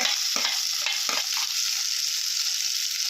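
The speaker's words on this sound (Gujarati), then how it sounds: "હવે થોડું મિક્સ કરવાનું છે સરસ રીતે મિક્સ કરવાનું છે" A spoon stirs and mixes millet khichdi with ginger in a hot pan, making a few soft scraping strokes over a constant bright sizzle, close up and with no talking.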